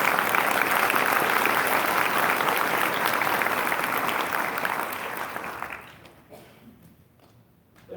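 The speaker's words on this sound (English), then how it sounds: "Please give him a warm round of applause." A graduation audience claps in dense, sustained applause that fills the hall, then tapers off and fades to near quiet by the end.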